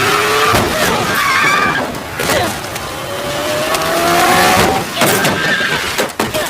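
A car runs someone over in a Hindi-dubbed John Wick action scene, heard as loud tire squeals and sharp impacts over a dense, busy mix, with voices at times.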